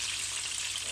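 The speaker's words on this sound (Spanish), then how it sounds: "estoy friendo los pimientos aquí, los del padrón" Padrón peppers frying in a pan, an even, close hiss of sizzling oil throughout the brief moment, with no talking.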